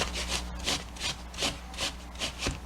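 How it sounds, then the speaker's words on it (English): An apple being grated on a full-size box grater, a series of about seven rhythmic rasping strokes, close and fairly quiet, with no talking. "we're going to use a full-size box grater. We're going to grate up some apple."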